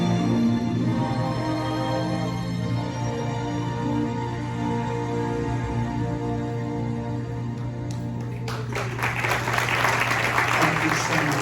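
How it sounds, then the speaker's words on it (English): An audience at a patriotic show in the Kings Grant retirement community breaks into applause near the end, clapping swelling over the closing notes of band music. "We appreciate your applause."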